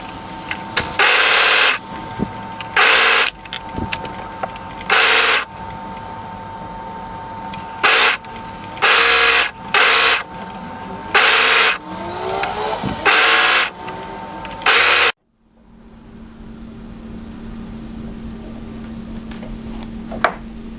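An overlocker stitches the overlapped seam of a knit tee or dress in repeated loud whirring bursts of a second or so, separated by short pauses, ending in quiet room tone.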